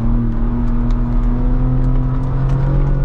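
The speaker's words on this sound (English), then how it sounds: "Off-road mode really likes to rev it out." A 2022 Ford Bronco Raptor engine revving in off-road mode: a loud, close, steady engine drone with a deep rumble heard from inside the cabin.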